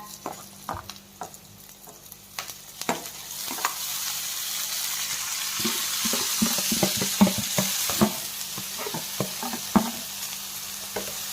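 Vegetables with onion and capsicum stir-fried in a pan for desi momos, a continuous sizzle broken by repeated quick spatula scrapes and taps that grow busier toward the end.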